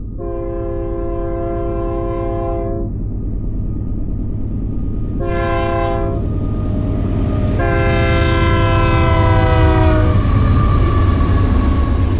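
A Union Pacific train rumbles past loudly with a steady roar, sounding its horn in three blasts, two shorter ones and then a longer, brighter final blast.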